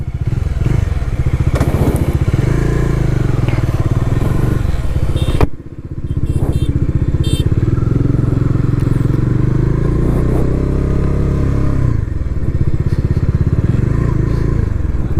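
A 2024 Bajaj Dominar 400 motorcycle is ridden with a loud, close engine drone and exhaust note, dipping briefly as the rider shifts gear before pulling on steadily.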